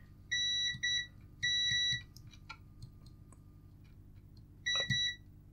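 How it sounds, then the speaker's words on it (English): A multimeter on continuity test while checking a faulty Game Boy Color gives sharp electronic beeps: a short double beep, a longer tone, then another beep after a pause, alongside faint clicks and low background hum. "Multimeter and continuity."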